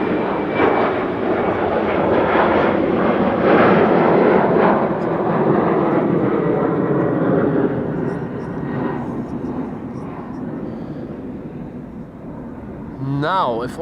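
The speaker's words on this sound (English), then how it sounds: "KLM Embraer 190 that departed from Cheaters Lane" Loud, continuous jet roar from a KLM Embraer 190 departing Schiphol, strongest early and gradually fading as it climbs out, with a brief voice near the end.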